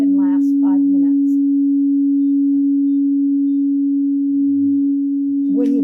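A struck singing bowl rings out loud and close with one pure, sustained tone that holds steady for the whole stretch, while a few brief vocal sounds come and go over it near the start and end.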